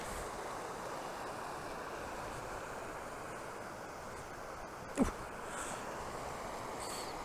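A river flows through the Howgills in the English countryside, giving a steady, even rushing of water throughout with one brief knock partway through.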